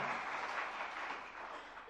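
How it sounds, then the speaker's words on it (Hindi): An audience at a religious gathering claps along, a faint, distant wash of applause heard steadily throughout. "जरा तालियां बजा दीजिएगा"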